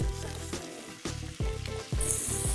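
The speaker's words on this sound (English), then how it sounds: "You should be hearing that sizzle when you drop the ingredients into the pan." Steady crackling sizzle of aromatics frying in a hot pan, with rhythmic stirring scrapes and clatters every half second or so.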